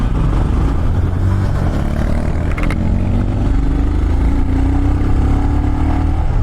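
A custom Royal Enfield Himalayan motorcycle engine runs close by, a loud steady thrum that rises in pitch as the bike pulls away, with a brief clatter partway through.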